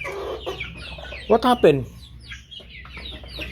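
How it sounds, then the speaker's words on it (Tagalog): Farm chickens cluck in short, agitated bursts right after one hen has escaped its pen, with a few louder squawks in the middle while a person speaks briefly over the birds. "Nakalabas yung isang manok."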